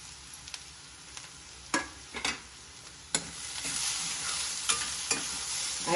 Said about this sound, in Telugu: అల్లం వెల్లిగడ్డ పేస్ట్ మంచి వాసన వచ్చే వరకు ఇలా కలుపుతూ ఉండాలి. కరివేపాకు వేయాలండి.